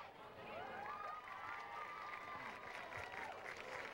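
A stadium crowd at a 2000 Baker vs Tara Trojans football game claps and cheers in a steady, dense roar, with a few rising whistle-like calls riding over the noise.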